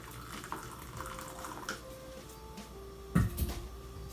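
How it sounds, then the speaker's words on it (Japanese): Hot water poured from a kettle into a bowl for whisking matcha tea, a steady close trickle lasting several seconds with a louder splash and clunk near the end. "お湯を入れて"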